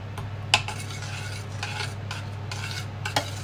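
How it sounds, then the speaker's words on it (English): Oatmeal, flour and ginger stirred into a syrup mixture while baking treacle treats, a few light scrapes and clinks of a spoon against a pan over a steady low background hum. "Mix together the oatmeal, flour, and ginger, and stir into the syrup mixture."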